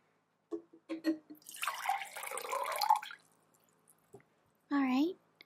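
Water poured for drinking during a soft-spoken roleplay, a broadband splashing pour of about a second and a half after a few small drips and taps, with a quiet voice-like tone briefly following.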